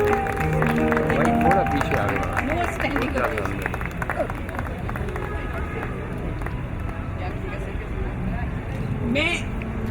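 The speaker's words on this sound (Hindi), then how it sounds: "थोड़ा पीछे आ गया। Standing ovation." A large audience claps steadily throughout a standing ovation at a lifetime achievement award ceremony. The dense applause continues at an even level with crowd murmur, and music shows briefly at the start.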